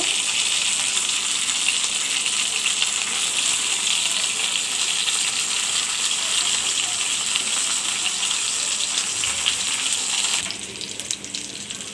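Tilapia fish fry in hot oil with a steady, loud sizzle filling the whole stretch, a dense hiss that softens slightly near the end.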